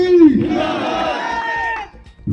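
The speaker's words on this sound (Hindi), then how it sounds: "आम आदमी पार्टी का एक बार नारा हो जाए" A crowd at an Aam Aadmi Party ward campaign rally in Nangloi shouts the party slogan in unison, a loud, sustained massed chant that ends abruptly, with a louder voice leading at the start.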